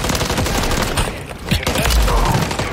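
Enemy gunfire in Call of Duty Modern Warfare 3 Zombies on PS5, dense continuous bursts of rapid shots layered with impacts and rumbling, loud and close throughout.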